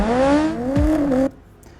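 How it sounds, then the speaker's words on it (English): AI-generated car engine revving effect, a single rising rev that climbs in pitch over about a second and cuts off abruptly, loud and close with no talk. "I'd want it to be a more aggressive, like a real revving of the engine"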